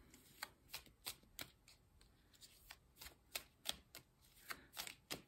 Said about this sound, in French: on va prendre 3 petites cartes de l'oracle du coaching de Charlie.